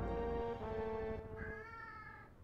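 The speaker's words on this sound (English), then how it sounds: "And that is my cat." A house cat meows with drawn-out, tonal calls, close and fairly loud, one long meow followed by a rising second cry that trails off, with no talking over it.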